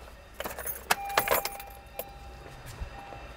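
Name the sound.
car ignition key turned off, keys jangling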